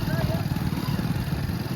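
A motorcycle engine putters at a low idle near a breached Ghaggar river embankment by flooded paddy fields, its uneven throbbing rumble close by, while people talk over it.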